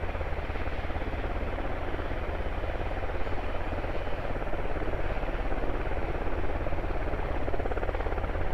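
Helicopter in the video game Squad, a steady loud rotor and engine drone with dense low thudding that holds constant throughout, no voices over it.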